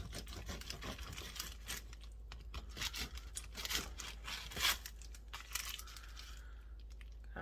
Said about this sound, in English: Let's see when I cut it. Cut another piece off.